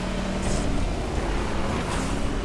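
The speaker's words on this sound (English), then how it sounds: "Right behind me, that's the sound of a trophy truck." Trophy truck engine in the off-road racing game Baja: Edge of Control, a loud, steady, gritty motor drone that holds close and constant with slight revving swells, with no talk over it.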